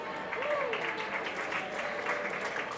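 A brewery audience at a climate science talk applauds the panelists, a steady, full round of clapping that holds at an even level for a few seconds, with faint voices mixed in.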